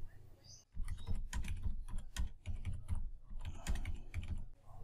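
Fingers type on a computer keyboard while working in Filmora video editing software, a close, quick, clattering stream of key clicks in uneven bursts with short pauses.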